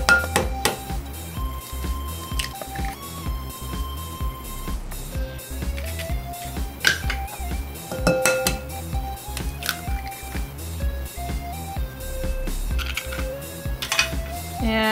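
Eggs being mixed into cooled dough for zoolbia bamieh, a steady run of soft wet squishing and tapping of a utensil against a bowl, close and continuous.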